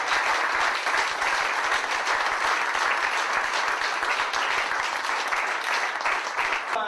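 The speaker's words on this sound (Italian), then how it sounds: "E penso un applauso per i genitori che sono sempre presenti qui tra noi." An audience at a memorial event gives steady, sustained applause for the parents, dense clapping from a sizable crowd throughout.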